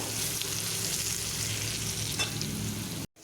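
Pumpkin pieces frying at medium heat in oil, giving a close, continuous sizzle with light stirring that cuts off abruptly near the end.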